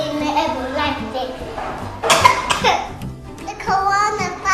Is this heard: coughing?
yes